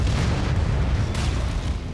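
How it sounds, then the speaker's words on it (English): An explosion in the MechWarrior 5 mech combat game, a loud dense low rumbling boom that fills the whole moment with a brief sharper burst partway through. "I heard something explode."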